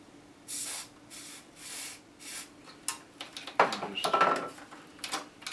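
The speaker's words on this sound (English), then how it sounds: "how much of this stuff have I sprayed in here?" Cleaner sprays in short hissing bursts into a National RX-5100 cassette tape deck. It comes as four or five spaced puffs, followed by clattering handling and rubbing noises close by.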